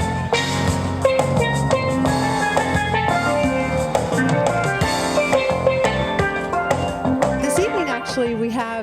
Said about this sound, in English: you can hear the steel drums in the background